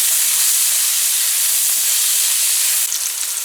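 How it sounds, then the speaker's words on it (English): Chicken fried rice with carrots and bell peppers fries in a pan as it is stirred, giving a loud, steady, close sizzle with a faint scrape of stirring and no voices. "Give that a stir."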